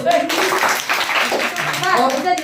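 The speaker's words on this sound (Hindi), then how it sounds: "अब लोग ताली बजाओ।" A class of schoolchildren claps during a science lesson, uneven hand claps mixed with chattering young voices and talk close by.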